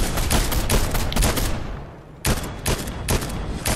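Rapid bursts of video game gunfire, loud and close, with sustained automatic volleys, a brief pause, then more clustered shots.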